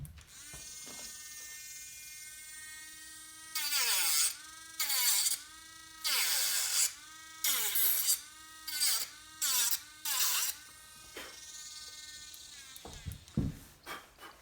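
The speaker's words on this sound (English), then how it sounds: "So I'm going to show you how this disc on this diamond wheel works." A rotary carving tool fitted with a diamond wheel disc grinds into wood in a run of loud, high-pitched whining bursts, each lasting about a second with short pauses between, the motor idling quietly before and after.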